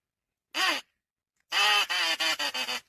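A duck call blown nearby: one short quack, a pause, then a rapid run of five raspy quacks in a row.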